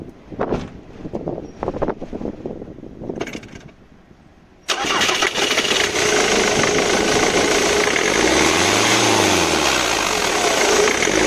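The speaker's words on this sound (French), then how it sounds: "si tu sais démarrer la voiture et donner un bon petit coup de gaz" A car engine undergoing a turbo boost pressure leak test turns over with a few soft bursts, then catches abruptly and runs loud and close, swelling into one revving rise and fall before settling.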